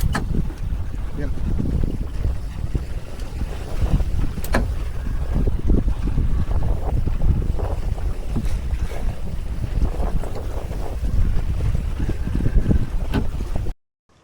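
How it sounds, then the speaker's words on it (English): A sailboat running on a broad reach through the Tacoma Narrows, with steady wind buffeting the microphone and a continuous rush of water along the hull, loud and unbroken. "So we are sailing on a pretty broad reach down through the Tacoma Narrows."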